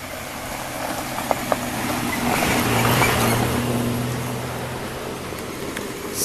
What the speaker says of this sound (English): And there's a car coming.